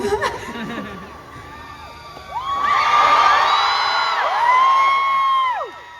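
A concert crowd at a live hill-station show cheers and whoops, starting with a short shout and murmur, then swelling into sustained high-pitched screams and yells from many fans that hold loud before fading.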